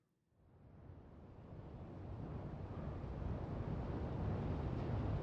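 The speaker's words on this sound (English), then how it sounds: "here is the wind gust" A wind gust in Minecraft on Hermitcraft rises from silence into a steady, loud, broad whoosh that keeps swelling gently and holds without any talk over it.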